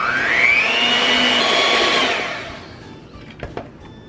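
An electric mixer whirs steadily through cream cheese for a banana pudding cheesecake, a loud rising motor whine that winds down after about two seconds, leaving a few faint clicks and bumps.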